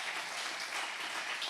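Church congregation applauding, a steady wash of many hands clapping together, moderately loud and continuous without talk over it.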